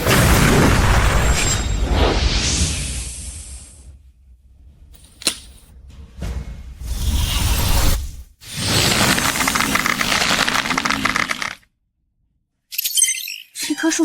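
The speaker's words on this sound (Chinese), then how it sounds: "命令机甲把藤蔓轰碎，将灵婴果拿下来再说。" Blasts from a mecha shattering entangling vines in a xianxia fantasy setting: loud bursts of noise with sharp cracks and debris-like crackle, broken by short silences, with no speech.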